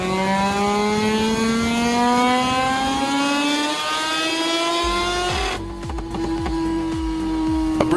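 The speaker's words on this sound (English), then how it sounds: "a stripped-down bike on a dynamometer stand, screaming its way into the red zone" A stripped-down racing motorcycle engine screams on a dynamometer stand as it revs steadily higher into the red zone, then drops back and pops before climbing again, loud and close.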